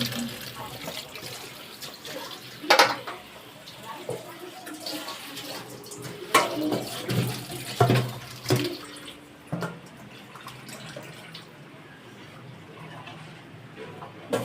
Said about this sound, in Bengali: এটাকে ধুয়ে নিচ্ছি, কষ জলটা বেরিয়ে যাবে